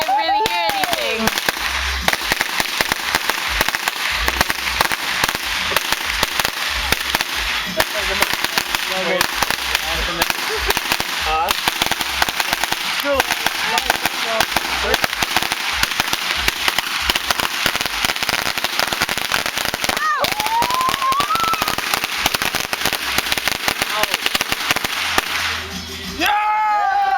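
A 4th of July grand finale fireworks show fires a loud, nonstop barrage of cracking explosions, with whistling rockets rising in between and voices faintly heard under the din.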